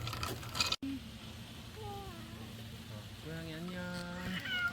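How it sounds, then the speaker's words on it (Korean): A cat in Okinawa, Japan meows a few times in short, rising and falling calls, fairly faint against quiet room noise, with a sharp knock near the start. "고양이 잘가 해줘야 된다."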